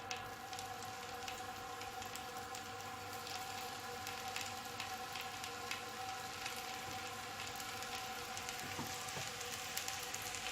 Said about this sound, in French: On place cube par cube de poisson dans la poêle.